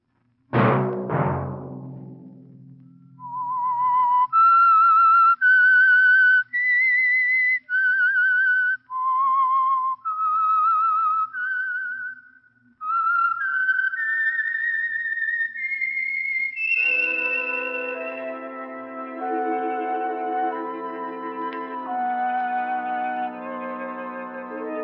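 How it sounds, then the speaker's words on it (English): A melodic whistle plays the signal theme of The Whistler radio program, a string of clear, sustained rising and falling notes after a brief opening chord, then giving way to a soft orchestral swell. "Let that whistle be your signal for the Signal Oil program, The Whistler"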